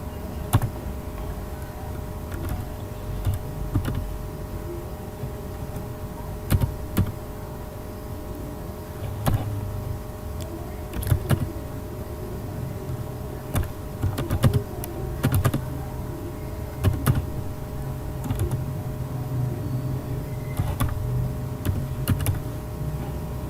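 Steady typing on a computer keyboard, close and fairly quiet, with irregular bursts of key clicks and occasional louder taps over a low background hum, no talking.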